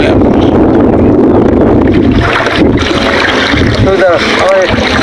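A wooden country boat moving on a river: a loud, steady wash of water and wind rushes against the microphone, with splashing along the hull and voices talking faintly underneath.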